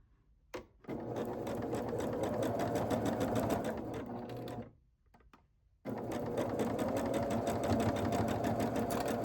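A sewing machine stitches pieced fabric for a quilt block, its motor humming loudly and steadily in two long bursts separated by a short pause.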